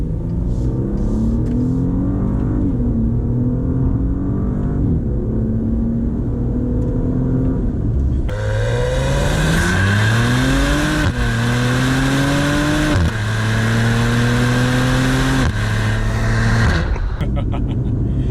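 A 2022 Maserati Levante GT engine revs hard on a test drive, rising through several gears in loud, sweeping climbs with distinct shift breaks, the exhaust growl close and dominant.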